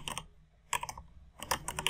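Typing on a computer keyboard, three short bursts of close, crisp key clicks separated by brief pauses, with no talk.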